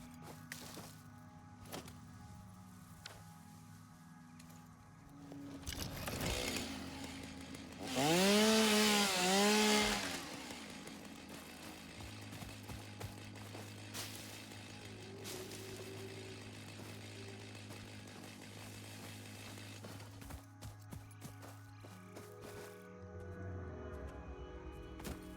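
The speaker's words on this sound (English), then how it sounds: "Can I use the chainsaw on, like, on animals?" A chainsaw in the video game Satisfactory revs up for a few seconds with a loud whining buzz, then settles back into a steady machine hum and game ambience.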